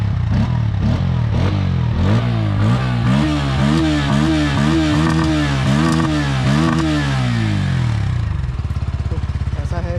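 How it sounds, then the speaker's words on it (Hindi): A Bajaj Pulsar N160 motorcycle's exhaust rises and falls as the engine is revved again and again, loud and close, then drops to a steady, throbbing idle near the end. "इसका बेस का ये एग्जॉस्ट नोट कुछ ऐसा था इसका।"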